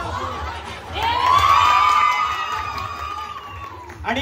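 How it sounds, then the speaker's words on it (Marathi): A studio audience at a Home Minister-style family game show for a Navratri festival special cheers for the contestants, a loud swell of crowd voices and shouts rising near the start and tapering off, with a fresh burst at the end. "तर जोरदार टाळ्या झाल्या पाहिजे."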